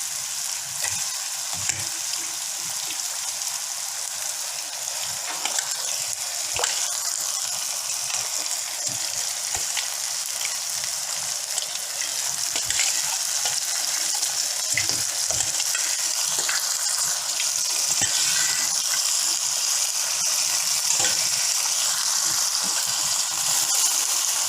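Mutton fries in a pan for mutton curry, a dense, bright sizzle that holds steady and loud, broken by occasional stirring scrapes and light knocks, with no voices.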